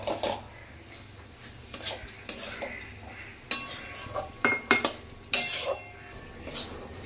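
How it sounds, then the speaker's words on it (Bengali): A spoon stirs semolina in a metal pan for suji malai barfi, scraping and clinking against the sides in irregular strokes, with sharp knocks over a faint sizzle. "শিরাটা দেওয়ার পরে সুন্দর মতো কিন্তু এবার এখানে নাড়তে থাকতে হবে"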